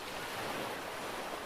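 Ocean waves wash steadily onto a beach, a continuous broadband roar of surf with no breaks or voices, fairly soft and even throughout.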